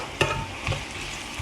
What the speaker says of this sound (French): Donc là, je fais suer mes oignons.